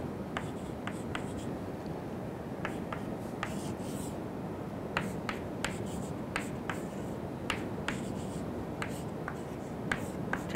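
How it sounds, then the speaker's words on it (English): Chalk or pen writes by hand during a lecture, with short scratchy strokes and taps in uneven bursts over a quiet room hiss, close and fairly faint. "Let me write this."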